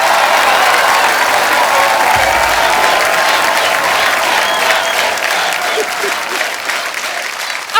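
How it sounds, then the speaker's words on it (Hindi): Loud studio audience applause and cheering on a Hindi comedy talk show, a thick sustained roar of clapping that thins slightly toward the end. "रणबीर के लिए जोरदार तालियां।"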